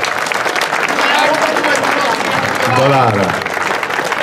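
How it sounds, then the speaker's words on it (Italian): An audience at an award ceremony for a mini slalom race in Amendolara applauds with steady, loud clapping throughout, while a voice speaks over it. "Facciamo un applauso."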